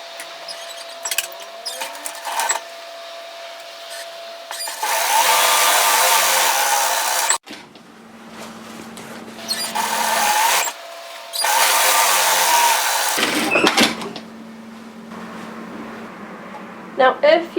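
A sewing machine stitches the side seams of a dress, running in several separate bursts of whirring motor sound with short pauses between, and a voice talks in the gaps.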